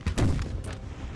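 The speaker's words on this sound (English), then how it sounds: "can we get some canister going out of these cannons going into that bastard?" Cannon artillery fire in the Napoleon Total War battle game, heard as one loud, deep boom with a rumbling tail, alone without speech.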